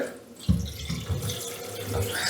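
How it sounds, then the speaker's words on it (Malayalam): Water runs from a piano-type kitchen sink tap into the basin, a steady close splashing stream with small irregular bursts as the flow hits the sink. "ഇങ്ങനെ വെള്ളം വരാനുള്ളൊരു ഓപ്ഷൻ ഉണ്ട്"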